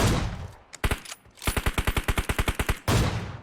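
Gunfire from PUBG Mobile: two separate shots, then a fast, loud, close burst of automatic fire of about fifteen rounds, and a final blast. No one speaks.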